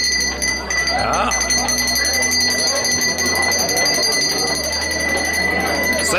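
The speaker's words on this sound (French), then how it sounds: "Ça y est, c'est la cloche." A bell rings amid a noisy, busy scene at a brasucade mussel cookout in Marseillan, with people talking and a steady low hum underneath.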